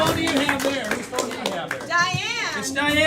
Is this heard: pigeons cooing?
no